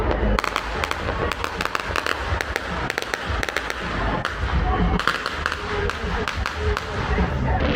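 New Year fireworks burst in Palm Springs, California, in rapid, dense volleys of sharp cracks and booming thuds, loud and fairly close, with voices in the background.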